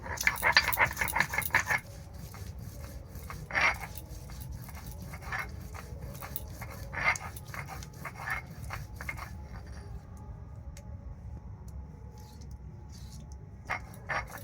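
Garlic and soaked dried chillies are ground into paste for ghugni, giving irregular scraping and knocking strokes that are loudest at first and then lighter and sparser.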